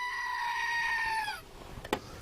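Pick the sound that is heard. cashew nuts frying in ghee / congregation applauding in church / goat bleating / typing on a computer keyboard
goat bleating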